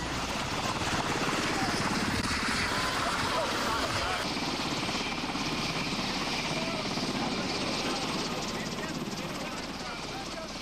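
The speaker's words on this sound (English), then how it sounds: "Medevac helicopters descended into the Oconaluftee Visitor Center" Medevac helicopters landing at a mountain visitor center during a severe 1993 blizzard rescue, rotor thumping loud and steady throughout, with a voice talking over it.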